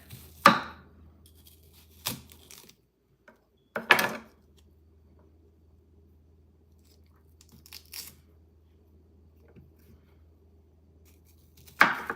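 A knife cutting up an onion with bad parts, a handful of separate, sharp chops that land close against a board, spaced out over quiet gaps with a low hum underneath.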